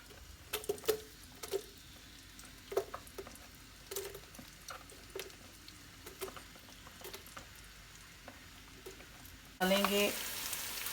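Onions go into a pan of hot oil and desi ghee. Faint clinks and scattered crackles come first, then a loud, bright sizzle bursts out abruptly near the end and continues.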